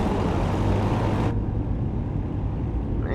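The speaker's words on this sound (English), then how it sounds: "You just hear that motor just da da da da da." A nearby vehicle motor in American Truck Simulator rumbles steadily and fairly loud, its broad hiss cutting off abruptly partway through while the low engine drone keeps going underneath.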